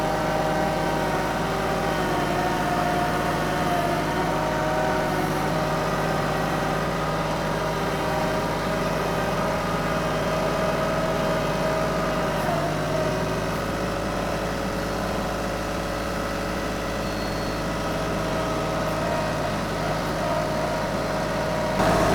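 Close, steady rumble of a small 25-horsepower tractor engine working hard under a heavy load, holding a constant pitch throughout with no talking.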